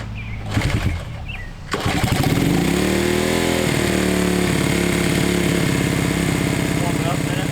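A 1971 Honda CB100 motorcycle is cold-started with a kick and choke. A few thumps and sputters give way to the engine catching at about two seconds, and it settles into a loud, steady, close idle.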